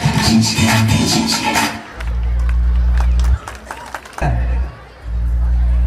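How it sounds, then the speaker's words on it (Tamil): A school crowd claps and cheers loudly for sixth-grade students performing at a cultural program, the dense applause giving way to pounding bass-heavy dance music with clapping continuing over the beat. "ஒரு பெரிய கைத்தட்டல் கொடுக்கலாம்."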